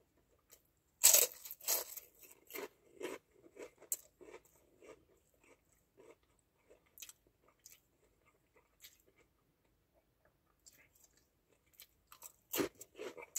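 Crunchy yellow hotdog being chewed close up: sharp crackling bites followed by scattered softer crunches and pauses, quiet between bursts, with a final louder crunch near the end.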